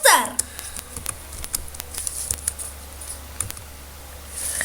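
Rapid keyboard typing clicks and key taps come in irregular bursts, close and moderately loud, over a low steady hum during a Minecraft hardcore game session.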